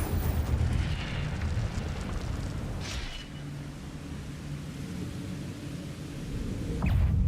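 An Incendio fire spell cast in a Harry Potter video game makes a sustained, rushing roar of flame. It stays loud and steady throughout and swells again at the very end.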